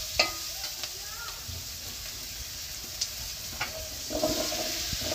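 Fish frying in a pan, a soft steady sizzle with scattered light clicks and pops, plus a brief burst of crackling near the end.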